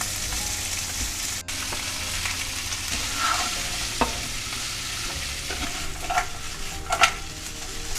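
Chopped three-colour bell peppers and a large-diced medium onion stir-frying in a pan for chilli paneer, a steady close sizzle with occasional stirring scrapes, no talking.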